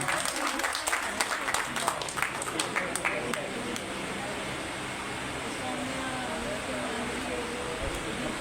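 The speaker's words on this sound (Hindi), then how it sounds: "एक बार इनका स्वागत करिए जोरदार तालियों के साथ।" Applause from an audience at a Partition Horrors Remembrance Day gathering, with dense clapping in the first few seconds that thins into a steady, noisy room wash and background murmur.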